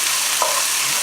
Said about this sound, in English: We're going to let that saute for a minute.